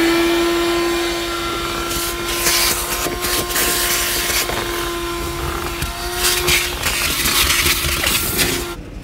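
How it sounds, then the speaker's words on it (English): A loud vacuum cleaner whines steadily up close inside a car, with a constant tone, its suction roughening and shifting as it moves across interior surfaces, then cuts off. "I'm going to vacuum this side for him because it's the worst"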